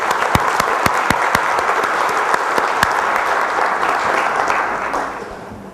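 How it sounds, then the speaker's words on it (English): An audience at a business conclave claps steadily in dense applause, with a few louder individual claps standing out, before it fades away at the end. "let's do the favor of a big round of applause for the miracle group."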